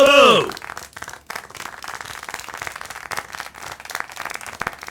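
Scattered hand claps patter after a short burst of voices, a small group clapping unevenly and fairly close.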